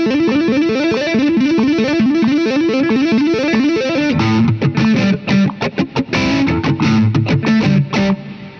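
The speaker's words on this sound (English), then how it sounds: "we're going to be playing 32nd note sextuplets, which is 12 notes on every beat" An electric guitar with heavy distortion rips through rapid 32nd-note sextuplets, a dense and loud run of notes for about four seconds that breaks into choppier, accented bursts, played alone with no voices.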